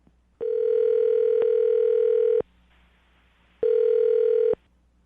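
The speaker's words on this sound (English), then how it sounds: "I'm going to dial the phone number right now" A telephone line rings after a number is dialed: two long electronic ring tones separated by a short silence, clear and close with no voices.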